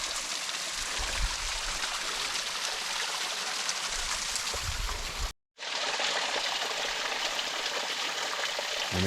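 Mountain stream on a backpacking trail at Mt San Jacinto's Round Valley, water rushing and splashing steadily up close, loud and continuous, with one brief cut to silence midway.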